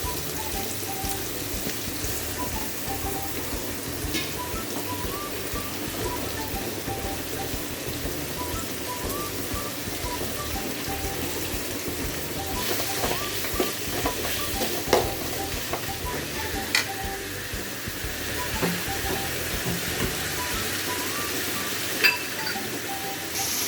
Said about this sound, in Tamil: வெங்காயம் நல்லா பொன்னிறமாக வர வரைக்கும் வதக்கிக்கோங்க